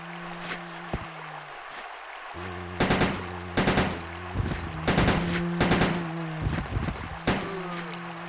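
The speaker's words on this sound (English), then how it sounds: "We should finish off our pistol ammunition first." Pistol gunfire in Resident Evil Code Veronica, a run of sharp shots in clusters, each crack loud and close, over a low droning game soundtrack with steady tonal hums.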